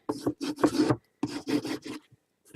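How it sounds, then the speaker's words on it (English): A mini album cover of paper and card is rubbed firmly with a burnishing tool, giving close, scratchy strokes in two short rhythmic bursts separated by a pause. "And then give it a good burnish."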